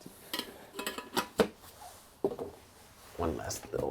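Old metal pots and pans in an abandoned house on a lonely North Sea island are clattered and knocked on a countertop in several irregular bangs, with someone talking between the clanks.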